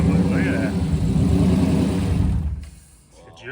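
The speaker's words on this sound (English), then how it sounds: "Coyotes do sound a little weird when they first start." A Ford Mustang's Coyote V8 runs with a loud, close, uneven rumble after starting, then its sound drops away sharply near the end as a voice comes in.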